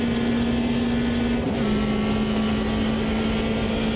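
Group 5 race car engine in Automobilista 2, a loud, steady drone held at constant pitch over a bumpy section, with a brief wobble partway through and no talking.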